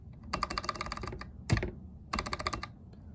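A staff code is typed on the large keypad of an RCHL SA01 lock programmer, two quick bursts of rapid key taps with a single sharper knock between them, close and clear, no talking.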